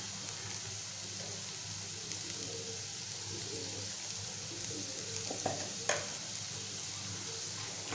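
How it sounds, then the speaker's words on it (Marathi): A spoon stirs red chavali leaf bhaji with garam masala and salt in a pan, giving a soft, faint sizzle with occasional light scrapes and clinks and no voices. "आणि छान एकजीव करूया"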